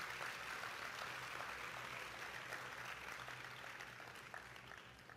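Church congregation clapping during a sermon, a sustained, even patter of many hands that sounds somewhat distant and low in level, continuing for about five seconds without talk.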